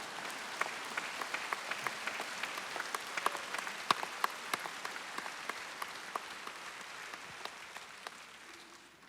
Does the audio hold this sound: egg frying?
no